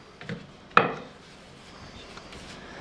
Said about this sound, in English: You can use the rolling pin to cut off the excess.